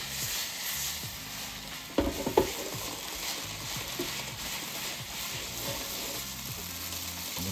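Pasta goes into a hot pan with pork for a creamy carbonara and sizzles with a low, steady fry. A couple of sharp knocks and stirring scrapes come near the start, then soft crackling continues.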